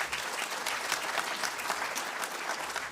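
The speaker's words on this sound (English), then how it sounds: "I think you can give them a round of applause." Audience applause at an official announcement ceremony for the 2025 NSSCO and NSSCAS examination results, a steady, dense wash of clapping filling the whole clip at moderate loudness.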